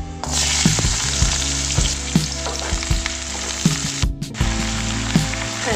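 Mixed vegetables fry in a pan with panch phoron and a dried red chilli for a Bengali mixed vegetable curry. A dense, close sizzle runs under repeated scraping stirs and light clinks.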